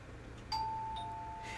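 A single bright doorbell chime rings out in an ARK modded home build, a clear tone that holds and slowly fades over a quiet background.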